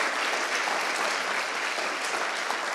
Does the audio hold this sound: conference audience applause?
yes